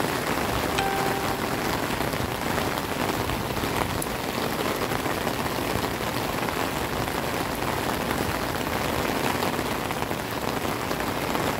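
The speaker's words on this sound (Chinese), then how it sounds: "下大雨越大。" Heavy rain pours steadily near a waterfall and rushing stream in Tainan, Taiwan, a dense, loud, continuous hiss with no talking.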